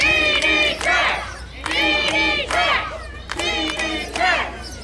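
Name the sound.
wrestling crowd cheering for Ron Mathis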